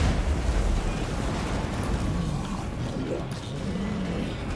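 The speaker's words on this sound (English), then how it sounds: "Now we do also have this explosion." A spell explosion in the video game Total War: Warhammer 2 booms as a loud, broad rumble at the start and then decays into a sustained roar of battle noise.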